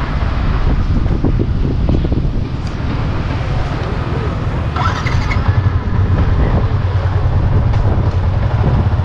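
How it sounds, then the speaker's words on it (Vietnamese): Strong wind buffets the microphone in a coastal city on a sunny rainy-season day, a continuous loud roaring rumble with passing traffic mixed in and no clear speech. "Gió quá."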